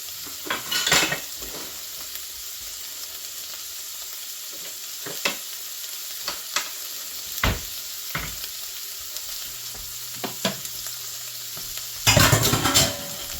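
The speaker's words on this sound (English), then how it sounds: "stirring this in. Let the eggs keep cooking." Eggs fry in a cast iron pan for a breakfast casserole, a low steady sizzle under sharp intermittent scrapes and clinks of a utensil stirring, with a louder clatter near the end.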